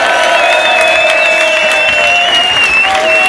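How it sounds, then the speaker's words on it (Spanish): Crowd at a bom bap rap show in Granada applauding and cheering, loud continuous clapping with whoops and sustained shouted voices riding over it, close and dense throughout. "Dale un aplauso a esa peña de ahí."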